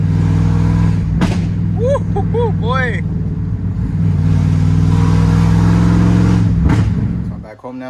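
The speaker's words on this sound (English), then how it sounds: "Thing's so fun to drive now with the new exhaust." A 1999–2006 Silverado/Sierra pickup truck with a new exhaust revs loudly, rising and holding a deep throaty rumble, while a man exclaims briefly over it.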